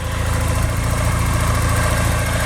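A 1985 Porsche 944 with a 2.5 liter four-cylinder engine idles steadily under the hood, a smooth, even low rumble that holds constant and close throughout with no voices.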